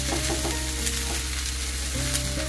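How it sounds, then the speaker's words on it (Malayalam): Beef fry with onion masala added being stirred in a hot pan, a continuous sizzle with a few quick scraping stirs near the start and again toward the end, close and steady. "അതിനുശേഷം നമുക്ക് ഉള്ളി മസാല ചെയ്തത് അതുകൂടി ചേർത്ത് കൊടുക്കാം"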